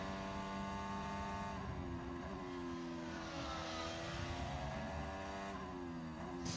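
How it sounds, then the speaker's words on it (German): Force India Formula 1 car engine at the Hungaroring, a steady high-pitched whine held throughout with a slight rise in pitch, fairly distant and unbroken, no voices. "in diesem rosanen Auto, wo wir gerade eingestiegen sind, da sitzt am Dienstag und am Mittwoch Lukas"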